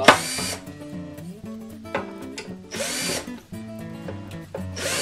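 A power drill backs screws out of the hinges on a handmade wooden box, with several short whirring bursts and brief pauses between them, close up and moderately loud.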